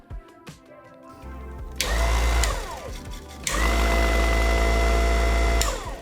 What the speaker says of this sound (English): So the polisher is not too loud.